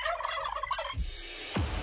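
A turkey gobbles in a quick, warbling burst as a sound effect in a radio ad, loud and close, then breaks off, with a short low thump after it.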